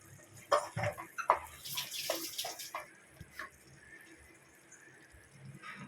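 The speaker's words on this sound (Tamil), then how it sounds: "மிக்சி ஜாரை அலசி கொஞ்சம் தண்ணி சேர்த்துக்கிட்டேன்" Water splashes and sloshes in bursts for a few seconds, then a quieter trickle follows, close by as a mixer-grinder jar is rinsed with water.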